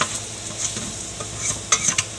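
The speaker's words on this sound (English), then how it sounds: "we're going to stir that right in onto the meat, into the bottom of the pan with all that grease" Flour stirred into corned beef hash meat and grease in a pan, a low sizzle punctuated by scraping spoon strokes and a few sharper clinks near the end, without speech.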